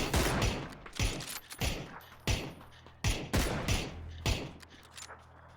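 Several heavy gunshot-like blasts in the video game PUBG, about one per second, each with a booming tail, with no voices heard.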